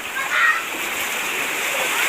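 Strong floodwater in San Roque, Pilar, Siargao Island rushes through a house, a steady loud wash of water splashing and roaring without pause.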